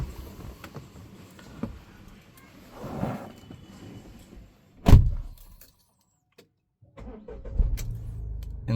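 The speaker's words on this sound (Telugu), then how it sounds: "ఒకసారి మనం ఇంజన్ కూడా స్టార్ట్ చేసి చూద్దాం." A 2021 Tata Punch Adventure petrol car with 60,000 km on it starts with a single crank: a sharp click, then a short pause before the engine settles into a steady, close idle.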